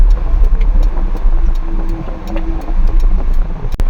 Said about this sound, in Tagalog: Hindi nakaligtas sa traffic.